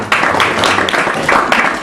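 Crowd applause rises quickly and holds as a thick, even patter of many hands, a live audience voting by clapping. It stays close and loud for nearly two seconds, with slight swells in intensity.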